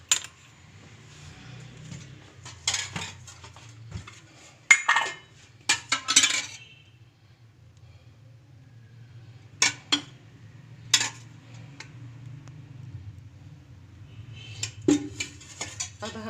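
A spoon mixes beef kebab mince with oil in a bowl, giving scattered metallic clinks and scrapes in irregular bursts, fairly faint and close, with quiet stretches between them.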